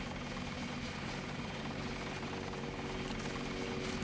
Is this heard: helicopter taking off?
yes